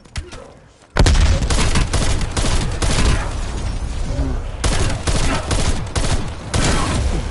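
Dense, loud gunfire erupts after a quiet first second and continues in sustained automatic bursts during a Call of Duty Black Ops Cold War Zombies match, with a brief voice under the shooting.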